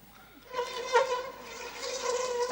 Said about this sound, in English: That's a mosquito.